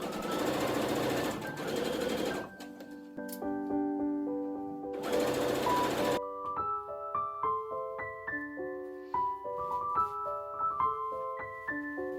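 A domestic sewing machine stitching a Regency-era gown runs in two loud bursts of rapid mechanical whirring, separated and followed by quiet piano music with no talk.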